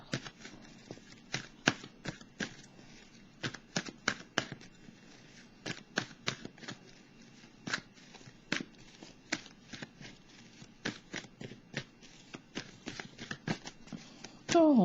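Tarot cards being shuffled by hand in a quiet room, a long run of crisp, rapid riffles and flicks in irregular bursts, close and clear with no talk over it.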